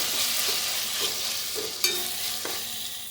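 Tomato masala with salt being stirred in a frying pan for aloo matar rice, a soft steady sizzle with scraping spoon strokes every half second or so, close and moderately loud, no voices.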